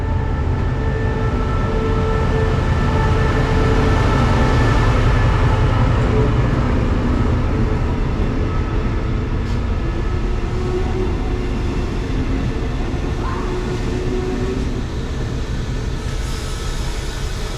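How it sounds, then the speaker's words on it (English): Steady, loud rumble of a sleeper train rolling along the tracks in Thailand, with a continuous low-pitched drone and faint rattling throughout, no voices. "Okay, so this is my train."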